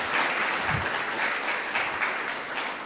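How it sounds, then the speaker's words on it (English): An audience at a security summit applauds to welcome panelists onto the stage, giving a steady mid-sized round of clapping that stays even throughout the moment. "I invite you now to give the panelists a round of applause"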